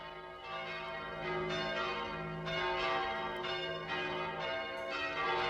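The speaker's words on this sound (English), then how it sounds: "For some people, it means, oh, these are the church bells" Church bells ring repeatedly with overlapping, sustained metallic tones, steady and fairly full, with strikes recurring every second or so and no voices.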